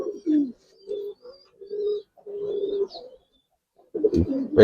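Giribaz and colored pigeons coo up close in a series of soft, repeated throaty phrases separated by short silences, ending with a burst of louder rustling and calls.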